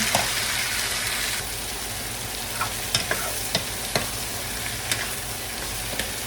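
Shrimp sizzling and frying in a pan after chili has browned, a steady hiss broken by occasional sharp crackles and stirring taps, close and moderately loud with no talking.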